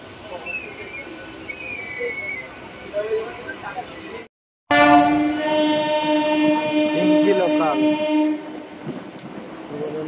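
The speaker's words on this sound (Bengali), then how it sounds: "তিনটি লোকাল হাওড়ায় প্রবেশ করছে, আর এদিকে যাচ্ছে পান্ডুয়া লোকাল।" A local train runs into Howrah Junction station, a steady rumble of rolling wagons with a long, loud horn blast that holds for several seconds after a brief cut, other train noise carrying faintly around it.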